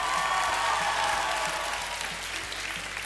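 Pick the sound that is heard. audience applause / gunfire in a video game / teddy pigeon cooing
audience applause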